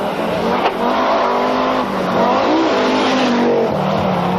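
An Audi Quattro rally car drives a stage of the 1982 1000 Lakes Rally in Finland with Stig Blomqvist at the wheel, its engine loud and close, pitch climbing and dipping through gear changes and revs.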